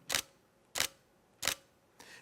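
Nikon D500 DSLR shutter firing in normal release mode: three sharp, close mechanical clacks about two-thirds of a second apart, then a softer fourth, in a quiet room with no talking.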